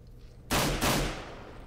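Two sharp, loud gunshot bursts in quick succession during a CS:GO match on de_train, each with a short decaying tail over quiet background.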